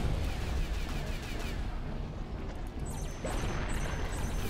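A rear ship's gun fires at incoming torpedoes in the space naval game Treasure Planet: Battle at Procyon, a dense, noisy barrage of blasts and crashes that stays loud throughout with sharper impacts near the end.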